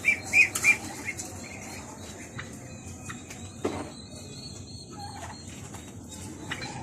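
Muscovy ducks flap their wings in a couple of quick bursts at the start, followed by softer rustling and faint bird sounds, with one more brief flutter partway through.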